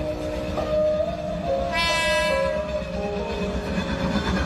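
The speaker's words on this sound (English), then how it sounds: "I thought it was gonna be some big train" A train passing with a sustained horn blast, a steady rolling rumble of the wagons under the sharp tonal horn, which sounds briefly near the middle, with no speech.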